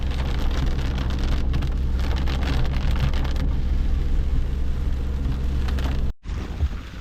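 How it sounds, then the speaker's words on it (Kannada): Steady, dense monsoon rain pours down in a constant roar in Thirthahalli, Malnad, briefly cutting out near the end before resuming. "ನೋಡಿ ಸ್ನೇಹಿತರೆ. ಮಳೆ ಮಸ್ತ್ ಜೋರಾಗಿದೆ."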